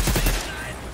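Enemy gunfire in the video game Outriders: a dense, loud burst of rapid shots with a rumbling low end, heard close and alone for about a second.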